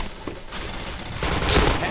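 Gunfire in the shooter game Point Blank, heard as a dense, continuous rattle of shots that swells near the end, close and loud with no clear gaps.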